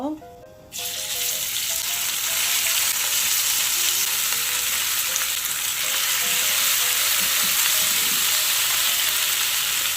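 Oil hisses and sizzles steadily in a hot pan while cooking a sweet potato kimchi dish, a loud, close, continuous fry that starts abruptly after a brief quieter moment.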